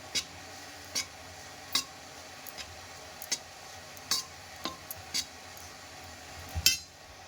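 Rice flour is dry-fried with salt in a pan for pithe, a spatula tapping and scraping in steady, regularly spaced clicks over a low, continuous background hiss, close and fairly quiet.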